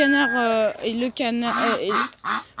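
Ducks, a mallard among them, call loudly and close by in a run of harmonic, honking quacks with rising and falling pitch, separated by brief pauses.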